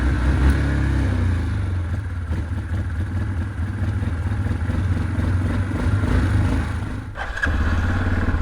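A Yamaha Kodiak 400 ATV, abandoned and just revived, runs loud and steady close by, its engine rumbling with some clatter and a brief dip near the end before carrying on.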